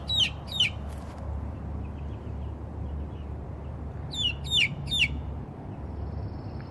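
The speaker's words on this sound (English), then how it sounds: "One chicken down in the bottom coop." Chickens in a backyard coop give short clucks and squawks in two bursts, near and fairly clear over a low steady background hum.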